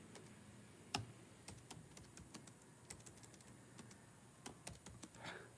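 Computer keyboard typing as a zip code is entered, quiet irregular key clicks in short bursts with one sharper tap early on, close and soft with no talk.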